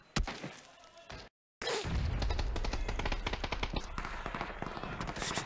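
Rapid gunfire crackles through a competitive shooter video game match, with sharp repeated shots and bursts, a brief dropout to silence, then sustained dense firing.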